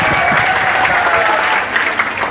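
A crowd at a ceremony gives steady, dense applause from start to finish. It is a loud, continuous wash of many hands with no clear break.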